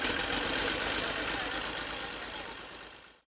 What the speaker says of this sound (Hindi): चुनाचे 6-6 इंच की तह लगाकर ट्रैक्टर से दबाते जाएं।